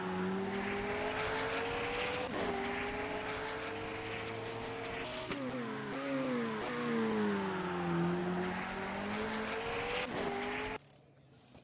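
A McLaren Senna hypercar engine in a racing video game drones loudly and continuously, its pitch rising and falling through gear changes and revs before cutting off abruptly near the end.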